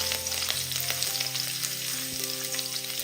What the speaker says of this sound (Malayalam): ചൂടായി കിടക്കുന്ന എണ്ണയിലേക്ക് 1 ടേബിൾ സ്പൂൺ ചെറുതായിട്ട് കട്ട് ചെയ്തെടുത്ത വെളുത്തുള്ളി ഇട്ട് കൊടുക്കുക